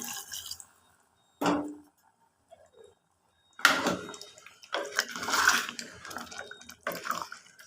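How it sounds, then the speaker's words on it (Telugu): Water splashes and pours in short bursts into a pot of mutton curry, with brief pauses between, close by and fairly loud. "చూడండి నేను వాటర్ వేస్తున్నాను"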